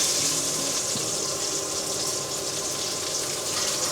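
Onions sautéing in a pan for pork afritada, a steady dense sizzle and hiss continuing throughout at even loudness, close up, with no one speaking.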